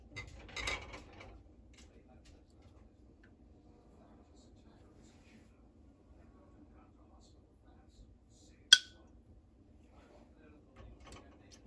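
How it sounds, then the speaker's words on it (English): A glass canning jar lid holding beef broth snaps down as it seals, a single sharp, bright pop standing out in an otherwise quiet room, with faint clatter and low background sounds before and after. "Jars sealing."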